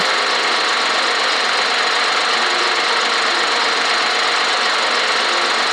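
A video game tractor engine in Farming Simulator 2014 mobile gives a steady, loud drone with a rough, buzzing texture, running continuously without pauses or voices.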